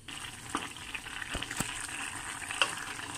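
A refrito (sofrito) cooks in a pan with a soft, steady sizzle and crackle, punctuated by a few brief pops and light stirring taps, close and fairly quiet with no talking.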